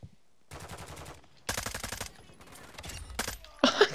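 Rapid bursts of gunfire in the video game Modern Warfare 2, with a .50 cal sniper rifle in play, come as several loud clusters of sharp repeated shots, close and punchy, with a voice briefly heard.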